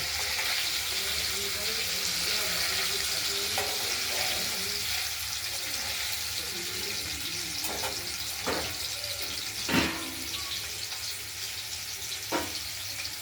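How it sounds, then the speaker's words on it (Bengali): Paneer frying in oil in a pan makes a continuous bright sizzle close by. A few sharper spatters and clinks rise out of it now and then. "পনিরটা ভাজা চলছে।"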